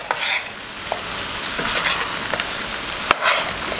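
Trinidad pigtail pelau is stirred in a hot pot, a spoon scraping and clinking against the metal over a steady sizzle, with sharper knocks scattered through the continuous scraping.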